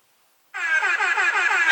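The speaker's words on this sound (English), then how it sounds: "A little cheesy air horn." A sudden blaring air horn blast follows a moment of silence, loud and sustained, its pulsing tone holding steady to the end.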